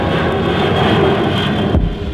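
The jet engines of a Tupolev Tu-160 strategic bomber give a loud, continuous, broadband roar that holds steady for almost two seconds before cutting off with a thump, leaving a low rumble.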